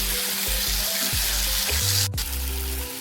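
Tomatoes fry in hot oil for stuffed capsicum masala, a steady close sizzle with a few soft stirring knocks and one sharp clack partway through.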